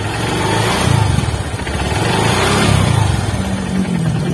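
A Yamaha motorcycle engine idles and then gets a light blip of throttle, rising briefly in a few gentle revs before settling. The engine is close and steady, with no talk over it.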